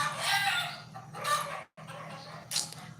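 Rooster crowing in a couple of bursts, one cut off by a brief dropout, over a constant low hum.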